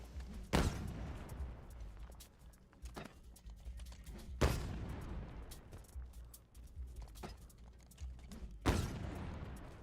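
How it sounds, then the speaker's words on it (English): A weapon firing repeatedly in a Pikmin 1 video game build, sharp loud shots at irregular intervals a few seconds apart over low rumbling background noise. "Now we're doing damage again because we can't prevent our weapon from firing."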